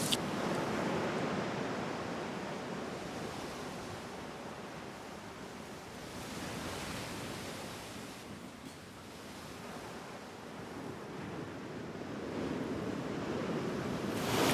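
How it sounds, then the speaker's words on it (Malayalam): Sea waves surge and wash onto the shore in a steady, continuous roar that swells again toward the end, heard up close with no voices. "പക്ഷെ ഇപ്പൊ നല്ല തിരയുണ്ട് കേട്ടോ."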